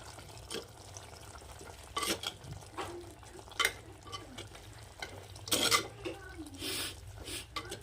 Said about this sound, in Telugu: గరం మసాలా వేసేసుకున్నాము కలిపేసుకుందాం